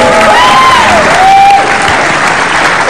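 Loud, dense applause from a television studio audience on a talk show, sustained clapping with crowd noise and a brief whistle-like tone rising through it.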